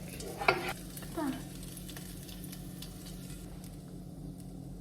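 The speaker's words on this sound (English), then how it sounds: "Letting it brown. And then I'll add the onions." Garlic frying in a stir fry pan, a low steady sizzle with a couple of clanking stirs of the utensil against the pan near the start, close and fairly quiet.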